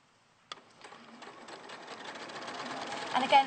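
A domestic sewing machine runs steadily as it stitches a seam in dressmaking fabric, its motor building from a start into a continuous rapid whir, with a voice speaking faintly over the mechanical hum.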